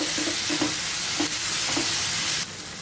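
Chopped onions and ripe tomatoes fry in a pan with a steady, even hiss, while light spatula taps and stirring strokes sound at irregular intervals over the sizzle.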